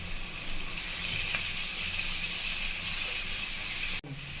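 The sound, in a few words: vegetables sautéing in oil with salt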